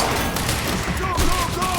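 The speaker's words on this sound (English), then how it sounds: "Open fire!" Dense, continuous gunfire in the action game Quantum Break on Xbox One, a steady loud barrage throughout with game sounds layered over it.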